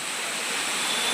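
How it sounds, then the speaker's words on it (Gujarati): Heavy water flows in a loud, continuous rushing roar close by, with no other sounds breaking through. "પાણી ચાલુ હે"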